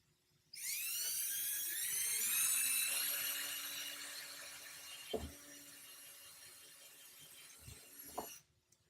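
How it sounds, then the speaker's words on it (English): A power drill whines at high speed for several seconds, rising slightly in pitch as it bites through PVC pipe, then winds down with a couple of knocks. "just using my drill to penetrate the PVC pipe"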